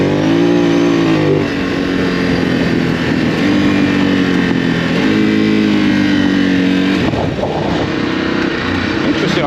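A Ducati Desert X adventure motorcycle engine revs hard on the throttle during on-board riding, close and loud, its tone repeatedly climbing and dropping through gear changes over about nine seconds.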